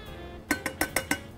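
A utensil stirring beef bacon, mushroom, garlic and cream in a pan, five sharp metallic clinks against the pan in quick, uneven succession after a quiet start.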